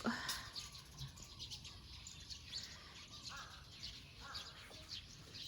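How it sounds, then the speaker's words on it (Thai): Outdoor ambience at sunset beside green rice fields after rain, with scattered bird chirps and a few crow caws at moderate distance, fairly faint over a steady background hiss. "เสียงนกเสียงกาห้อง"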